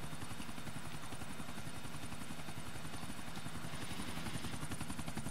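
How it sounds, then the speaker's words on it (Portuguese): Helicopter in the video game GTA 4, a steady loud rotor chop with whining engine drone running continuously throughout, no talk over it. "Ah, o helicóptero saiu do lugar."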